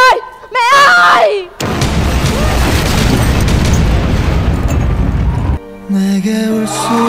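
In a comedy skit, a bomb goes off after a countdown with a huge, loud blast that roars for about four seconds, framed by shouting voices and a musical sting before and after.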